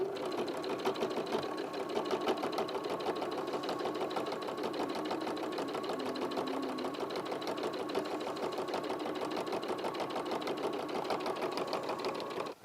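A sewing machine stitches fabric in a steady, fast, continuous whirr and needle clatter that runs close and unbroken throughout, with no voices.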